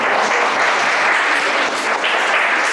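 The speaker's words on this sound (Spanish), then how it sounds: "Denle un aplauso al Rey de Reyes," A church congregation applauding during a service, dense continuous clapping from many people that stays loud and steady throughout.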